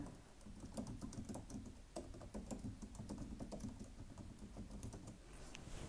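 Quiet, fast typing on a computer keyboard, a run of light irregular key clicks with no voices, close by and fairly faint.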